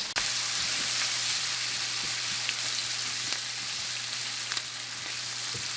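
Peppers and onions fry in a pan with a constant bright hiss, broken by scattered small pops and crackles. The sizzle stays close and steady, with no voices over it.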